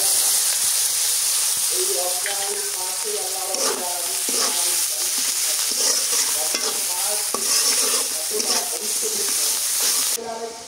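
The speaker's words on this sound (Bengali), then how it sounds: "শুটকি মশলায় কষানো হয়ে গেছে" Dried fish being stir-fried in spice paste in a village kitchen pan, a loud continuous sizzle with rhythmic scraping strokes, and a voice speaking intermittently over it.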